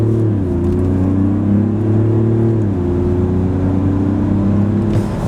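A Mercedes-Benz GLE 400d accelerating hard from 0 to 100 km/h. The loud engine drone climbs steadily, drops briefly at a gear change and then climbs again, heard from inside the car with no talking.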